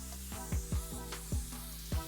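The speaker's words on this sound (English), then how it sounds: "today you're using all A&I spray guns" An A&I spray gun sprays paint across a car's trunk deck lid, giving short hissing bursts that repeat irregularly at close range over a steady background hum.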